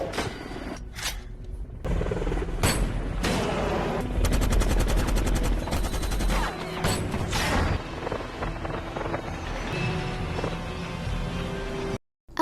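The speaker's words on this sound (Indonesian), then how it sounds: "Dan akhirnya Schweiger menembak jatuh heli tersebut" Heavy gunfire rattles through a film action scene as a helicopter is shot down, with dense automatic bursts, booms and mechanical clatter that stay loud and continuous before cutting off abruptly at the end.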